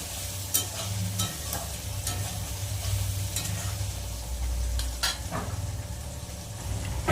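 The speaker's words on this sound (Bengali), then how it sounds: "টমেটোটা কিন্তু হালকা একটু ভাজা হবে" Tomatoes frying lightly in a pan for a Bengali paneer dish, a soft continuous sizzle with occasional scraping stirs of a spatula against the pan, quiet and close, without speech.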